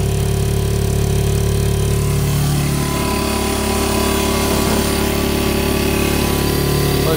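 Yamaha Breeze 125 and Kawasaki Brute Force 650 ATV engines running close by, a steady, loud mechanical drone with a slight rise in pitch partway through as revs build, no voices.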